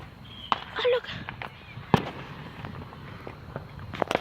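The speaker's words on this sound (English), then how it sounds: "There's fireworks at Amarillo." Fireworks burst over Amarillo at night, a few sharp distant bangs and crackles spread irregularly across the clip, one louder pop standing out, with voices murmuring faintly in the background.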